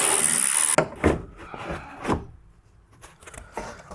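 A panel under a BMW is pulled off, giving a few close scraping and clunking sounds after a brief loud hiss at the start.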